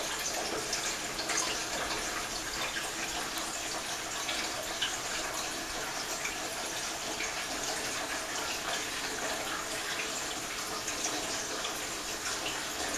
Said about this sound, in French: L'eau commence à monter.